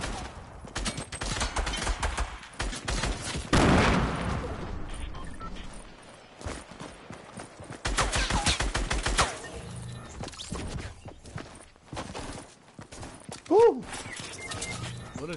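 Bursts of gunfire from a shooting video game come in rapid clusters, loud then fading, with a person talking over and between the shots.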